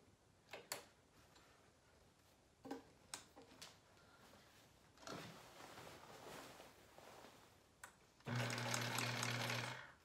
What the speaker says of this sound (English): go to your sewing machine, and with a zigzag stitch, you will stitch back and forth, up and down about 5 times